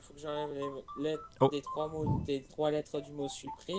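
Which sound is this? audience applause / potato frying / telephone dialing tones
telephone dialing tones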